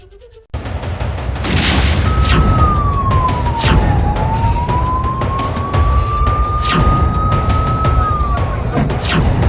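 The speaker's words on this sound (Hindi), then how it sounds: "एम्बुलेंस का सायरन सुनाई दे रहा है।" A loud ambulance siren wails continuously, its pitch sweeping slowly up and down over a rumbling, noisy background after a bomb blast in Kerala.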